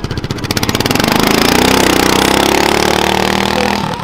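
A racing lawn mower engine at an amateur mower race fires up with rapid popping pulses, then revs into a loud, sustained buzzing roar that holds steady before easing off, very close.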